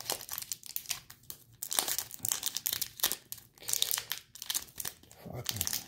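A foil wrapper from a 2021-22 Upper Deck Series 2 hockey card pack crinkles and tears in repeated bursts of close, bright rustling over about six seconds, with short pauses between handlings and no speech.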